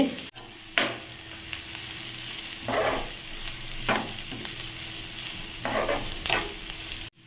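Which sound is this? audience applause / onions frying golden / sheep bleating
onions frying golden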